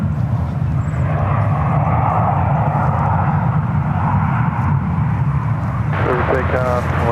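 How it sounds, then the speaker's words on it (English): A Delta Airlines Airbus A320 formerly flown by Northwest roars steadily at San Francisco airport, a broad loud jet rumble from a moderate distance, with a voice speaking over the engine noise. "Aircraft lined up on one left heading to LAX. Delta Airlines Flight 2272. It's an Old Northwest A320."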